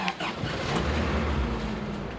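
A car engine catches after the starter and settles into a steady, low idle, close by and continuous, with a faint whine over the rumble.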